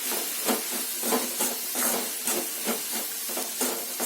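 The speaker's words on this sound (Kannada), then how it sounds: "ಈರುಳ್ಳಿ ಇನ್ನೂ ಸ್ವಲ್ಪ ಫ್ರೈ ಆಗಬೇಕು" Onions sizzle in a pan for avarekalu saaru, a steady soft hiss with gentle rhythmic swells as they fry, alone and fairly quiet.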